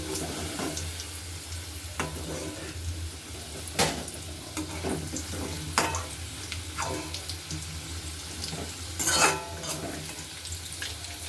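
Potatoes frying in oil give a quiet, steady sizzle, broken by a few sharp clinks and scrapes of a utensil in the pan.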